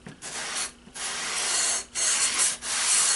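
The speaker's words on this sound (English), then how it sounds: "We're going to take a sanding block and finish it" A sanding block rubs along the edge of a model aircraft elevon, shaping it to a 45 degree bevel. It gives close, steady rasping strokes, about four long passes with short pauses between them.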